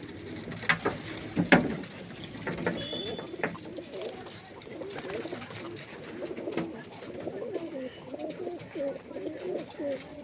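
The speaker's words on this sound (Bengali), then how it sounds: "এই যে পায়রাগুলো।" Malwai and hajarwala pigeons in a pigeon house coo in soft, repeated low rolling calls throughout, with a few sharp clicks and wing flutters near the start and a faint voice in the background.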